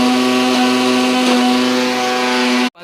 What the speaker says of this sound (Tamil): இஞ்சி பூண்டு 2 நச்சு, வெங்காயம் எல்லாத்தையும் மிக்சியில் போட்டு அடித்து